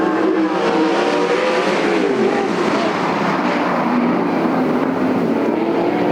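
A pack of sprint cars roars off at the green flag at Sunset Speedway, a loud, dense wall of engine noise that stays sustained and overlapping throughout.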